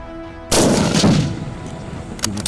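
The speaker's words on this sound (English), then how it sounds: "Shoot again, Doc." A single loud gunshot fired at a crocodile during an invasive-species hunt cracks sharply and close, then its boom rolls and decays for about a second, with faint clicks near the end.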